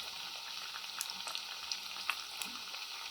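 Besan and onion tikdi fry in a pan over medium gas, giving a steady close sizzle with a few sharp clinks and scrapes as they are stirred and turned.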